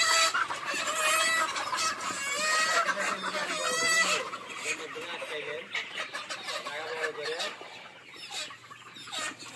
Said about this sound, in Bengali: মুরগি ধরতেছে।